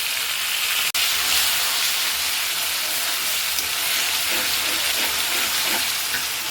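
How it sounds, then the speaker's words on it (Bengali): Spice paste added to fried onions in a pan for a country duck curry, a loud continuous sizzle and crackle of frying that holds steady throughout, with no talk. "আমার মশলা, পেঁয়াজটা ভাজা ভাজা হয়ে গেছে। এখন আমি মশলাটা দিয়ে দেবো।"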